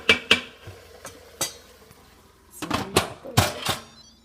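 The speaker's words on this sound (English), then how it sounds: "So I'm just going to give it a nice good stir" Chicken stirred inside an Instant Pot pressure cooker makes a string of sharp metallic clanks and scrapes against the inner pot, some sparse and some clustered together, up close with no talking.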